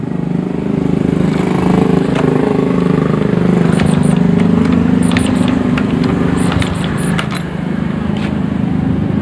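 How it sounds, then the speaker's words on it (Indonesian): A Honda Supra Grand motorcycle being kick-started to test its ignition catches and runs, a steady mid-pitched engine drone filling the whole stretch at close range with no talk over it. "Sekarang akan saya engkol ya."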